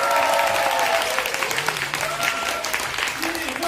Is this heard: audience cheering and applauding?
yes